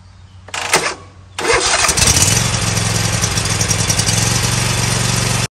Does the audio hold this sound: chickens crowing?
no